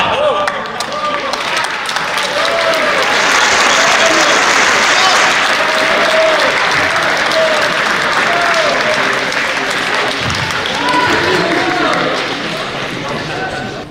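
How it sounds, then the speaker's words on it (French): Sustained audience applause fills a chess championship prize ceremony in Nîmes, a dense, loud wash of many hands clapping that swells and holds for several seconds before easing slightly toward the end. "je vous demande d'applaudir les arbitres, les organisateurs"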